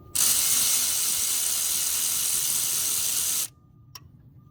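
A ratchet working a 10 mm bolt on a fuel line assembly of a Gen V LT engine, heard as a steady fast buzzing whir lasting several seconds, then stopping with a faint click.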